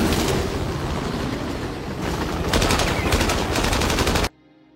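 Sustained automatic gunfire from a film scene, a rapid continuous rattle of shots aimed at an enemy helicopter, loud and dense for about four seconds before cutting off abruptly.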